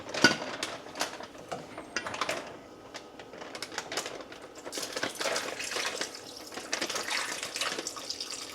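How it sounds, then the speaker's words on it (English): Marinade for pork tenderloins poured out into a kitchen sink, a running, splashing stream with light clinks, steady and close, with no talking. "I think what I'm going to do is actually just pour this into the sink"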